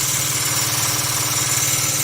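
Wood lathe spinning a workpiece as a gouge cuts, a steady droning hum with a fast even pulse and a faint hiss from the cutting, close and constant.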